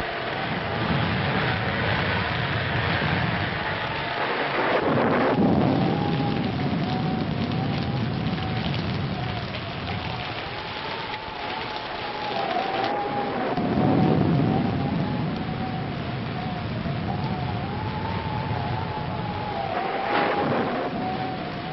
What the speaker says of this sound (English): we'd better get out of here before this storm gets any worse